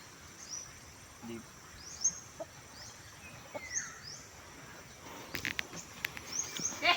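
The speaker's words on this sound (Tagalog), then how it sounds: "Ito po yung siraulong manok namin, oh." Outdoor scene on a mountain with chickens clucking and chirping birds over a background of insects, followed by rustling and handling noises near the end.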